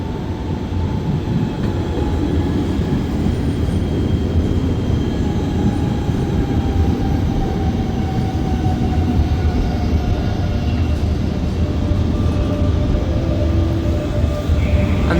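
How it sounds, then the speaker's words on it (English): A train rolls into a station in Germany with a low steady rumble and faint squealing wheels, a sustained heavy rail noise that fills the whole stretch. "And this is my train."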